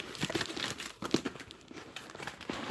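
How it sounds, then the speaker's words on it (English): Cardboard mail package torn open at one end, a run of crinkling, ripping and crunching bursts with a sharper tear near the middle, close and fairly quiet. "I'll just rip this end off"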